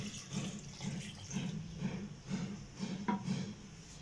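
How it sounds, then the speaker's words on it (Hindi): About a litre of water is poured into a cooking pot holding cut raw mango pieces in a home kitchen, a close, splashing stream with rhythmic surges and no talking. "अब हम एक देचकी में इसको डालेंगे और 1 लीटर पानी जो है वो ऐड कर देंगे हम इसमें"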